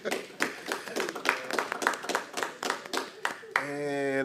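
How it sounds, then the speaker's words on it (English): A council meeting audience claps sparsely after a vote, with a few individual claps landing at a steady, loose rhythm for several seconds. A voice then cuts in, speaking at the end. "Okay, now y'all can clap."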